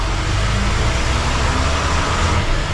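A Mercedes O302 bus drives along a road with a steady, loud engine rumble and broadband road noise throughout, with no talk.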